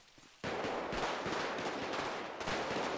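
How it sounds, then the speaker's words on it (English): Gunfire in GTA 5 with a zombie apocalypse mod: a loud, dense burst of rapid shooting starts abruptly and keeps crackling in a continuous barrage, with no talk over it. "I can hear a bunch of shooting over here"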